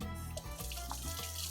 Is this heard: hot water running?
yes